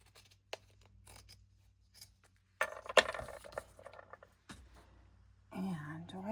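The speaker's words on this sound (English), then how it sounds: "And then we will cut that off at the bottom." Scissors snip through craft material with a few crisp close cuts mixed with rustling and handling, while someone talks quietly nearby.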